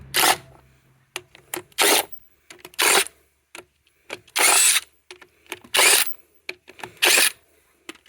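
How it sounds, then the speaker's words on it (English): Wheel fasteners come off a 2009 Silverado under a tool that fires in a series of short, loud, close bursts, each a second or less, with small clicks and rattles between them and no talking. "you're not supposed to take off these little plastic guys with a torque wrench"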